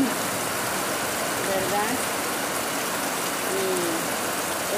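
Steady rain falling outdoors near a small shop, a dense constant hiss filling the background while someone talks over it.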